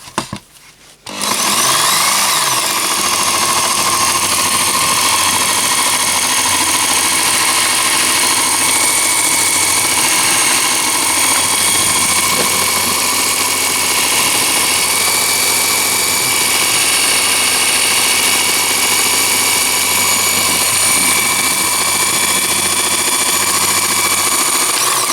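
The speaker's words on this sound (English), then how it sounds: "it will position the belt, and you put it into the best position until the belt runs central on the top roller" A Ken Onion variable-speed electric knife and tool sharpener starts after a brief pause, then its belt runs with a loud, steady whirring hum and a whine that holds for the rest of the clip.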